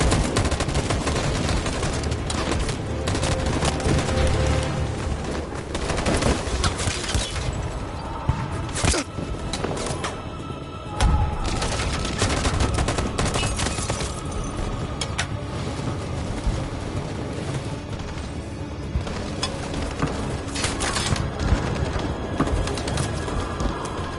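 Sustained volley of rapid gunfire from a Geometry Dash level, dense crackling shots running loud and continuous throughout with brief dips, no talking.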